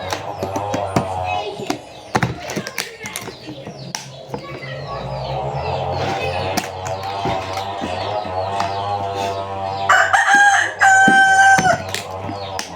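A gamecock rooster crows loudly and repeatedly nearby, its calls stretching across the recording amid clucking fowl and scattered outdoor noises.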